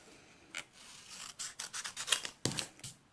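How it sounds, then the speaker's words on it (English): Paper trimmer or blade slices a card panel for handmade card making, a quick run of soft rasping strokes and scrapes, close and quiet, with no talking. "I'm going to trim that down."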